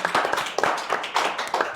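Brief applause at an Indonesian talk show on BPJAMSOSTEK JKP benefits, a short run of steady, fairly loud hand claps close by, with no talk over it.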